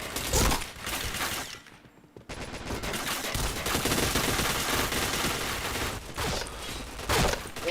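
Rapid gunfire in a shooting video game during expert-mode play, dense overlapping bursts of shots that fill the whole stretch with one short lull near the middle, loud and close.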